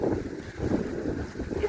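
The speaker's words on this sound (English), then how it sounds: "It is so windy." Strong wind buffets the microphone in loud, gusty, rumbling waves that rise and fall continuously, with no talk heard.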